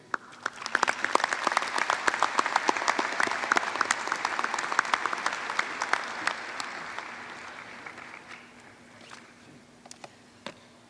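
A large audience at a university business school commencement claps steadily for about eight seconds as a speaker is welcomed, then the applause thins into scattered, fading claps.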